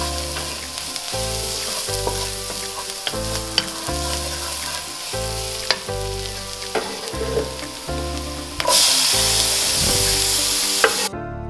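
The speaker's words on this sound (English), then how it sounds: "Let your onions and red peppers cook and soften." Onions and red peppers fry in a pan for shakshuka, a loud, steady close sizzle with occasional stirring scrapes and a brief surge of hissing near the end, over quiet background music.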